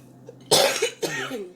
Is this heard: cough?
yes